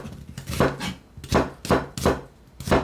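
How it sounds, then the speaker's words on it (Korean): Onion being julienned with a knife on a cutting board, a series of crisp, close chopping knocks in uneven bursts with short pauses between them, no talking. "양파를 적당한 크기로 채 썰어주고요"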